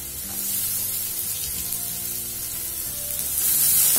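Beetroot sautéing in a pan for a one-pot lunch box dish, a steady close sizzle and spray of frying running throughout, growing louder toward the end, with no talk.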